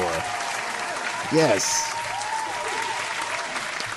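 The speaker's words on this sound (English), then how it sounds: "Give UG a round of applause for sure" Loud, dense applause from an audience at a talk on AI and women in the workforce, sustained throughout, with a voice briefly speaking over it partway through.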